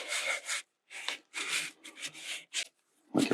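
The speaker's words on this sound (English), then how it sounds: "You can darken it up by mixing up darker dye and rubbing it in real good." A cloth rubs wood dye into a wooden surface in short back-and-forth strokes, several brisk scuffing bursts separated by brief pauses, close and fairly quiet.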